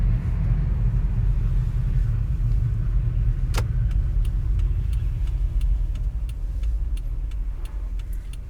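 A car driving in -49 degree Yakut winter cold gives a steady, loud low rumble of engine and road noise throughout, with a sharp crack partway through and a series of faint regular ticks, no talking.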